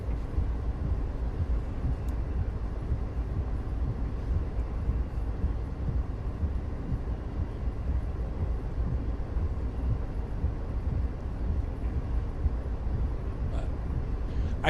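A train rumbles along the Patchogue to Jamaica line in the Train Sim World 5 game, a constant low droning roll with faint clicks, steady throughout and moderately quiet.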